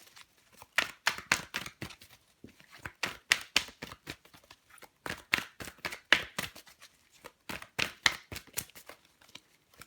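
Tarot cards are shuffled over and over in close, crisp bursts of riffling and sliding that come in a steady, repeating rhythm, with no talk.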